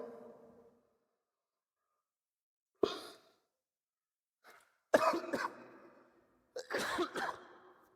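A man coughs several times in a quiet room, short harsh bursts separated by pauses, with a breathy sigh before the first cough.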